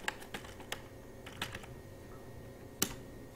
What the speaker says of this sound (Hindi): तो यहाँ पर हम टाइप करेंगे परसेंटेज शेयरिंग